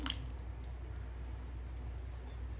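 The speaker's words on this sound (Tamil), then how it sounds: "இப்போ வந்து நம்ம பருப்பு தண்ணி எடுத்து வச்சுருக்கோம் இல்லைங்களா அதை வந்து இதில் சேர்த்துடலாம்" Lentil cooking water is poured into a pot of rasam, a steady close liquid splash and gurgle with soft drips running through the whole moment.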